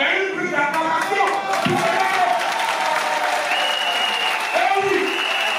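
A crowd gives sustained applause during a standing ovation at a Côte d'Ivoire gathering, with loud continuous clapping and cheering voices throughout.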